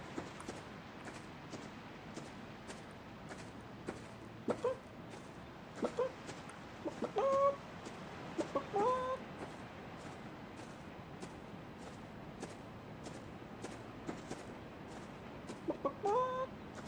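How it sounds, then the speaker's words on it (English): Chicken in the Back to Hearth video game clucking in scattered short bursts over a faint background, with small clicks and light footstep taps between the calls. "Help, the chicken is stuck. Where'd the fuck the chicken go?"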